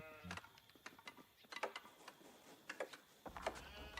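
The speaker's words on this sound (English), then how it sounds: "Oh, that's a lot of sheep." Cartoonish sheep bleats from an Age of Empires match, several short calls scattered across a few seconds among faint game clicks and ticking, with no voices.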